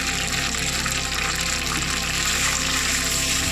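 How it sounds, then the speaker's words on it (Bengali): Water poured into hot spiced oil in a cooking pan, a loud, continuous rushing hiss that fills the whole moment without pause. "এখন আমি এর মধ্যে অল্প পরিমাণ জল দিয়ে দেবো"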